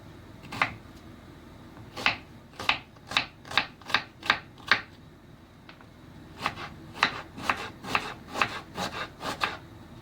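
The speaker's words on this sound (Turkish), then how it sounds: "şöyle bir tane soğan doğrayalım ve kavuralım" Sharp knife strokes chopping an onion on a cutting board, quick bursts of chopping in two runs separated by a short pause, close and clear.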